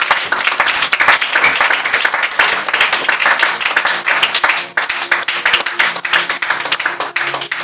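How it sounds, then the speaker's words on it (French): A congregation at a church service claps and applauds loudly and continuously, a dense, steady roar of hands from many people with no break throughout. "acclame très fort pour le Seigneur."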